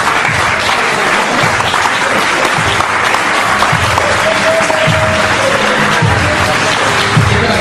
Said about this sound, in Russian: И аплодисменты, конечно же, его сопернику.